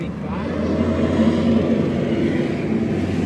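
A fire department high-reach truck, engine 35, rumbles steadily as it drives past and turns, heard from inside the back of a police cruiser, with a continuous low engine drone throughout.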